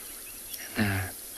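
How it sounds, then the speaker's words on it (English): Frogs call at sunset on a safari at Tswalu in the Kalahari, one low, throaty croaking call rising briefly out of a quiet evening backdrop, faint and somewhat distant. "In the background, you might just hear some frogs calling."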